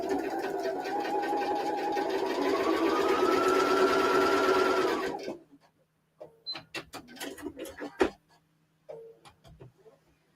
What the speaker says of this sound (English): we're now going to sew those 2 middle pieces together, just a line across the middle